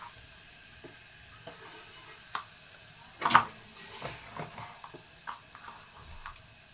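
Drumstick curry with dal stirred in a pan, giving a faint sizzle with soft scraping clicks and one louder clatter of the spoon partway through.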